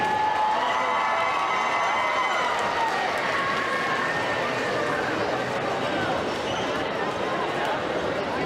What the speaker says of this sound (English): Just a big hand for the Las Cholitas drill team.